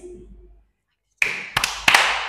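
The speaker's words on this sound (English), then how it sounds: "Clap your hands." A young child, around five, claps hands during a classroom-style English lesson: a few sharp claps close by, an isolated one, then a couple more, after a short silence.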